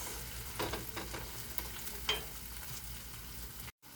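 Onion and bay leaf frying in a pan, a quiet steady sizzle broken by a few scraping strokes of a spoon stirring them, with no voices.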